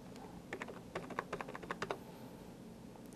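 Computer keyboard typing while entering figures into accounting software, a short burst of quick, close keystrokes in an irregular rhythm followed by a pause and one final key press.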